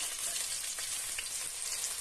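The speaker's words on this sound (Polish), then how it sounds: "I to chwilkę sobie podsmażam na masełku." Chopped onion frying in butter in a pan, a steady close sizzle with crackling spatter running throughout, no talking.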